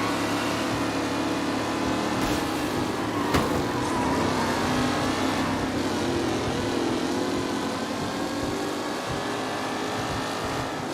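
Racing cars roar in Mafia Definitive Edition, a steady, dense engine drone holding at constant loudness throughout, with no talk.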